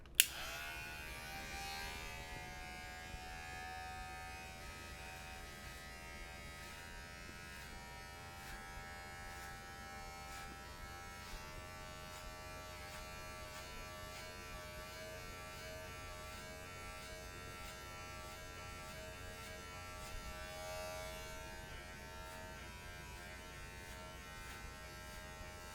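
Electric hair clippers fitted with a half guard run in a steady, continuous buzz while cutting hair during a self-administered taper fade, close and even throughout with no talking.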